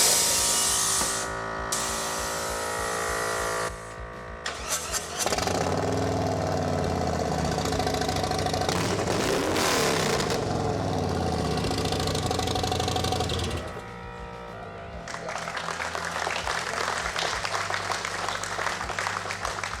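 A custom Harley motorcycle's air suspension, built with a welded swing arm serving as the air bladder, cycles with a loud sustained pneumatic whoosh and buzz that cuts off abruptly, over an idling engine and a hissy tail.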